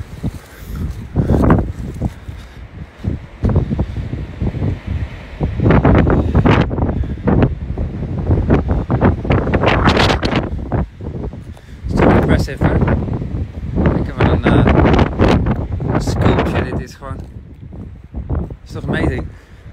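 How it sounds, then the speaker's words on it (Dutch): Gusts of wind batter the microphone in a forest, coming as heavy bursts of rumbling buffeting with brief lulls between them across the whole stretch. "dit is wat er gebeurt als het hier gaat waaien"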